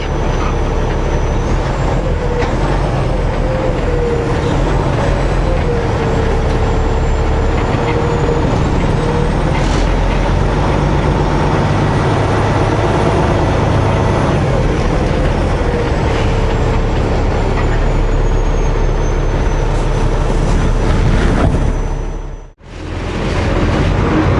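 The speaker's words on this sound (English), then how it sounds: "I started up the truck and headed toward the shop" A loaded truck drives along the road, giving a loud, steady engine rumble and road roar with a faint high whine riding on top, which cuts out abruptly near the end.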